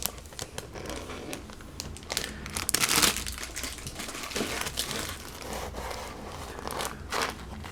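Close plastic crinkling and rustling as a bag of Roden He111 model kit parts is handled, with irregular crackles and a louder burst of crumpling partway through.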